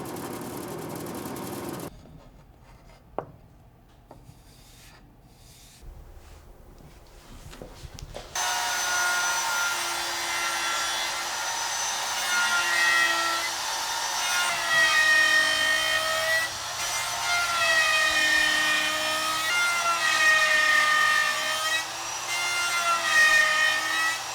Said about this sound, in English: To drill out the tuners, I start with a 1/4 inch brad point bit